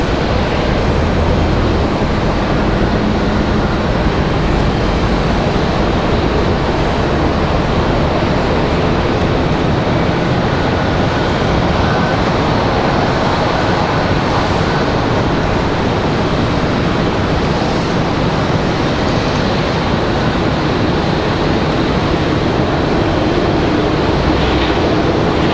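An airliner in Hummingbird livery at Raleigh-Durham International Airport gives off a loud, steady broadband roar that holds without a break for the whole stretch, with no voices over it.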